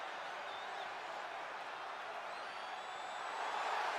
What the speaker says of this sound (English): The roar of the crowd is all you need to hear.